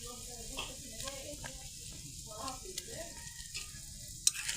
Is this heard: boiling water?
yes